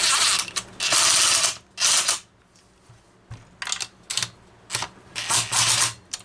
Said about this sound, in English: Torque that one with a regular wrench.